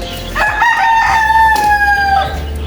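A white rooster gives a single long, loud crow close by, its drawn-out call rising and holding steady before trailing off, with no voices over it.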